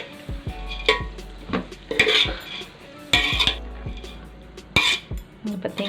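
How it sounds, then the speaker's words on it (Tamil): Chicken fried rice gently stirred in a pan over a low flame: repeated metal spatula scrapes and clinks against the pan, coming in uneven bursts with a soft sizzle beneath. "ரைஸ் போட்ட பிறகு இப்படி மெதுவாக இப்படி கிளறி விட்டுக்கோங்க"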